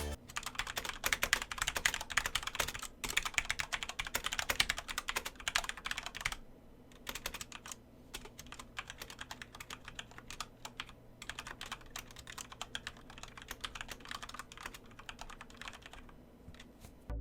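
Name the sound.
Corsair K70 RGB RapidFire keyboard typing sound test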